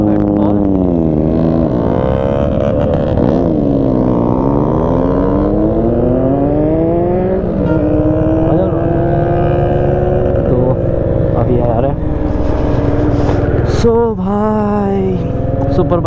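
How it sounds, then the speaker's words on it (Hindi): A Kawasaki Z900 superbike engine revs loud and close, pitch climbing and falling repeatedly through several throttle blips, continuous throughout. "Super bike sound super bike sound."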